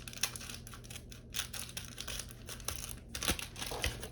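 Scissors snip and crinkle through the plastic wrap of a 1989 Donruss baseball card rack pack, a few close crisp cuts and crackles with no talking.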